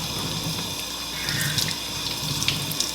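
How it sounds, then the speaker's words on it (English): Hands get rinsed under a running tap, a steady close hiss of flowing water with small splashy surges as the hands move through the stream, and no talking. "So you kinda wanna run it under the water like so."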